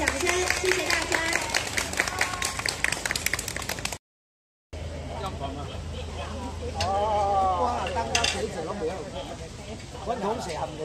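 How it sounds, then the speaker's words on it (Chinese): Guests clap after a ribbon-cutting ceremony at a university's bicycle parking-lock launch. About four seconds of scattered hand claps overlap a voice, then a brief silence, and afterward a person talks with little clapping. "剪彩仪式顺利完成，我们请来宾给予热烈的掌声"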